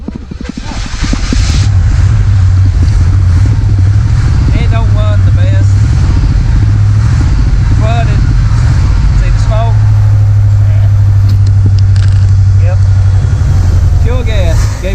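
A Chevrolet El Camino G-body V8 cranks and catches, then idles roughly and revs up in surges, loud and close, with someone talking over the engine at times.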